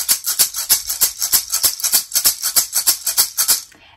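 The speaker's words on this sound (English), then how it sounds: "And that's the sound of this rattle. So that's the sound that the seeds make." Wooden hummingbird rattle filled with seeds, shaken in a steady rhythm of about twenty crisp, bright rattling bursts over four seconds, close and alone, stopping at the end.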